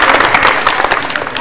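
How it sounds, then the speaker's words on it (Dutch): A short burst of crowd applause rings out at the opening of an outdoor museum in Nieuwegein, Netherlands, dense clapping close by and continuous for a moment. "Nou, dat is ook een applaus waard, denk ik."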